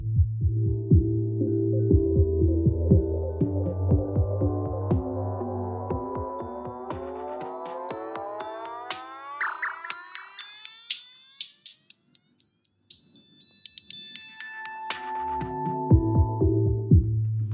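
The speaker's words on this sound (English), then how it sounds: "This state variable filter right there is like the build-up maker" Synth build-up in Ableton swept by a state variable filter, a pulsing tone whose harmonics climb steadily upward, thin out to a high whistle, then fall back into the throbbing low bass, loud and alone.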